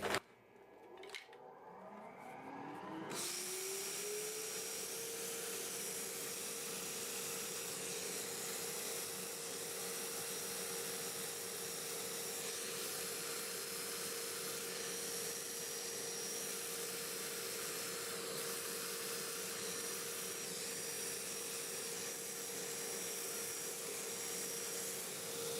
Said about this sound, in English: And we are sanding in reverse